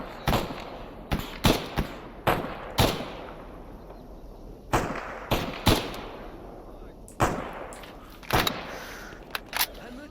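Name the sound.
gunfire from the video game Stalker Anomaly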